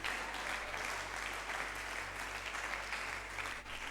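A church congregation claps together in sustained, dense applause that holds steady throughout, with a faint murmur of voices underneath.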